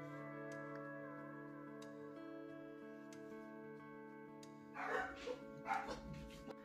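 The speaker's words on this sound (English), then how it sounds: "So if you hear the dogs barking once in a while" Dogs bark at a mailman in a house, with two short muffled bursts of barking near the end, heard through a low steady hum.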